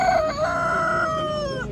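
A rooster at a Kırıkkale chicken market crows once, a loud, close, drawn-out call with a rising then sustained tone lasting nearly two seconds, alone without talk.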